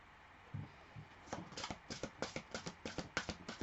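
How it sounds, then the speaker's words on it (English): Tarot cards shuffled at close range in a rapid, steady run of soft papery riffles and taps, a few isolated flicks first, then a quick regular rhythm of card slaps. "still shuffling these cards."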